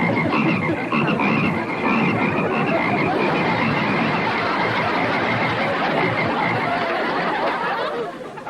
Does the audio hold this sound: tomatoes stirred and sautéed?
no